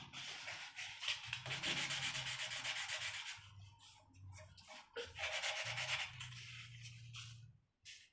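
A nail buffer rubs back and forth across guitar frets, giving a close, raspy polishing scrape in repeated strokes with short pauses between bursts.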